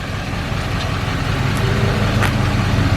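An old Chevrolet Duramax diesel pickup backing up, its low rumbling engine steady and fairly close, growing slightly louder through the stretch, with no talking.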